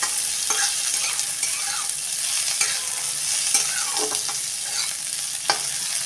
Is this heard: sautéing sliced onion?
yes